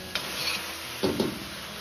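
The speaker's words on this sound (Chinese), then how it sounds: "再放入适量的生抽酱油提味提鲜，继续翻炒几下，炒出酱香味" Chicken stir-fried with soy sauce in a wok: two distinct scraping stirs of the spatula over a quiet, steady sizzle, close and moderately loud, with no voices.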